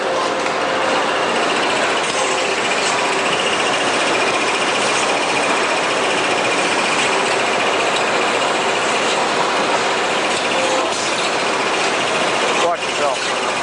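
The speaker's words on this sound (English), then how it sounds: "This has got 2 disc wheels in there, stone wheels, going around, and he's taking these rivet heads off with the size." Two spinning stone grinding wheels grind rivet heads off pliers in a tool factory, making a loud, continuous, rough roar throughout, with a voice talking over the machinery.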